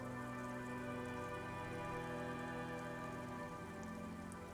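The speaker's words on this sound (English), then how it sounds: "Its branches are dripping with rain and snow." Steady rain drips and patters continuously in Disco Elysium, set against a low, sustained ambient drone.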